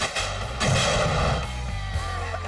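Air cannon rig firing a blast, a deep booming rush of air that swells loud and close, then trails off into a lingering rumble.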